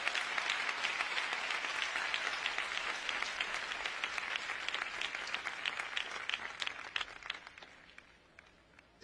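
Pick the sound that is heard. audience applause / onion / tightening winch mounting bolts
audience applause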